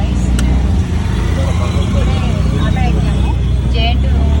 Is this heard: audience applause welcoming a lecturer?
no